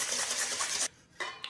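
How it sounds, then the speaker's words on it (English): A whisk beats three cracked large eggs in a bowl, giving a quick, steady run of metallic clinking against the bowl that stops briefly and then returns for a short final stroke, close and clear with no talking. "now we're just gonna crack 3 large eggs. Give that a whisk."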